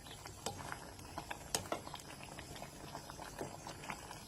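A pot of liquid bubbles steadily at a rolling boil, quiet and close, with irregular pops and gurgles throughout.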